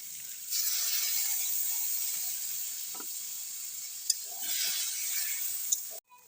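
A soybean, potato and pointed gourd curry hisses and sizzles steadily in the pan after gravy is poured in, with a couple of light utensil clicks over the fairly soft frying.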